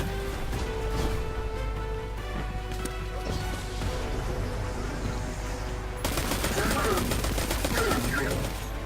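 Rapid automatic gunfire from the video game Destiny rattles in dense, sustained bursts that intensify partway through. Someone speaks over the shooting.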